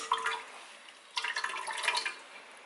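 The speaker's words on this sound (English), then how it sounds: "just give that a really good squeeze so you make sure you get all of the juice out" Half a lemon is squeezed hard over a pan of homemade strawberry syrup, with two short bursts of wet dripping and splattering juice, the second longer, separated by a quiet pause.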